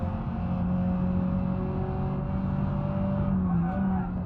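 Struggling car engine in the BeamNG.drive racing game, a strained, uneven drone held steady and loud throughout, with faint tire and road noise.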